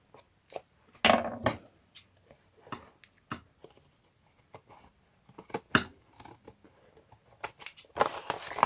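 Scissors cut paper in a quiet room with a string of short, sharp snips at irregular intervals. Some snips are louder and crisper than others, and no one talks.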